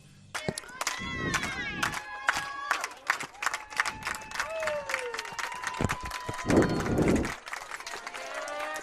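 Spectators at a high school girls' state soccer semifinal between Gilbert and Des Moines Christian clap and cheer their team on, a steady mid-distance crowd noise with scattered shouts and bursts of applause throughout.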